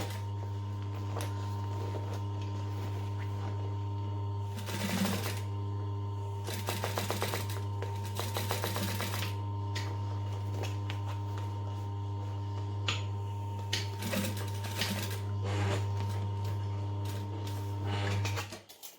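A sewing machine stitching a fabric bag, with a steady hum running throughout and bursts of rapid mechanical needle clatter at intervals, close and continuous.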